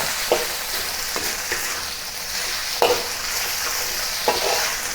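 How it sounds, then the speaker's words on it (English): Pork stir fried over high heat in a cast iron wok, a loud constant sizzle punctuated by several spatula scrapes and clanks against the metal, with no speech. "stir fry the pork until it is cooked and then remove it from the wok."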